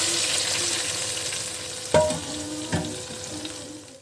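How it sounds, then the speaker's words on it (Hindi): Pakoras for besan kadhi sizzle steadily in hot oil, a continuous bright frying hiss with two sharp clinks of a utensil partway through, close and fairly quiet, with no talking. "इधर पकोड़े बन रहे हैं हमारे"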